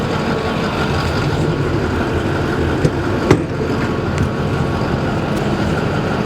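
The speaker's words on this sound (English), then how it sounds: "We run our diesel engines" The diesel engine of a 2014 Winnebago Journey 34B Class A motorhome runs at a steady idle, a loud close drone with a couple of faint clicks.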